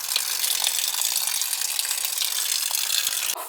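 Water rushing and draining steadily through the pipes of a leaking tub shower valve inside a wall, a loud continuous hiss that cuts off abruptly at the end.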